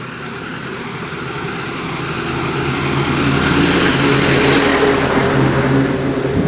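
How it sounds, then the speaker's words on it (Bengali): Big heavy vehicles roll along a busy bypass road beside a village path: a continuous broad rumble and engine drone that swells louder over the first few seconds and then holds steady, with no voices. "বড় বড় গাড়িগুলো চলে"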